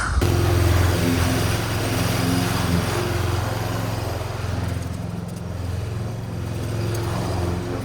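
A lawn mower drones loudly and steadily while cutting grass, its engine holding a constant close hum with slight swells in level.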